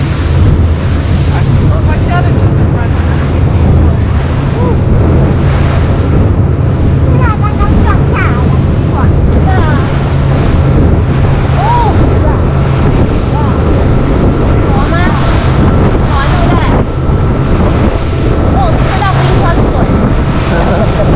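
Strong wind roars across the microphone on a boat on a glacier-fed lake, with waves surging and slapping beneath a constant loud rumble, and voices talking intermittently over it.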